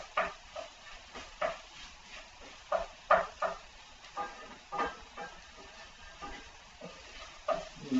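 Flour and hamburger meat cooking in a pan for gravy, with soft sizzling and intermittent scraping stirs of a utensil against the pan, fairly quiet and close, with no talking.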